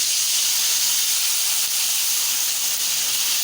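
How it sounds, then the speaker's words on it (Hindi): Fish pieces deep frying in a small kadai full of hot oil give off a steady, dense sizzle. The hiss runs unbroken and fairly loud with no voices over it. "इसमें हमने ना ऑयल डाला है कि डीप फ्राई हो जाए अच्छी तरह ना, पूरी डिप हो जाए फ़िश"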